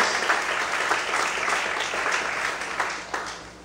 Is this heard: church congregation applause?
yes